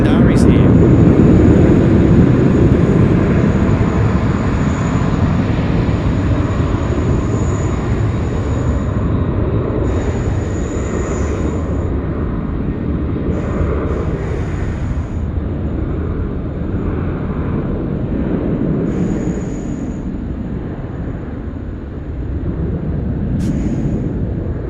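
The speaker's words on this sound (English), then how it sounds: "that Qantas 738 packed a punch, didn't it?" Qantas Boeing 737-800 jet roaring past at an airport, a loud, steady, broad rumble sustained throughout, with people talking briefly over it.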